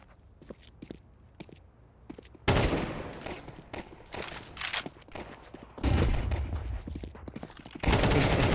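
Pistol fire in Rainbow Six Siege during a pro esports match cracks out in three sharp, loud bursts of rapid shots, with quieter footsteps and game noise between them.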